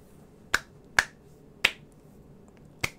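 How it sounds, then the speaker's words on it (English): Four sharp, isolated hand claps or snaps, spaced unevenly in a quiet room, each crisp and brief with nothing else around them. "Awkward clap."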